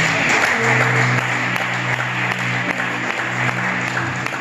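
Audience at a church pastoral conference applauding, steady dense clapping from a large crowd filling the room throughout, with a faint sustained musical tone underneath.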